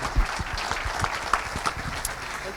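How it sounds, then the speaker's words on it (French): Audience applause at a conference talk on the use of fire in Spain, moderate clapping with distinct individual claps standing out near the front of the room. "On peut les applaudir, je pense déjà parce que oui."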